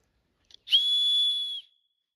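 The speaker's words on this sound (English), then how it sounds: "Whistle." A single clear, high whistle holds steadily for about a second after a couple of faint clicks, then stops, leaving silence.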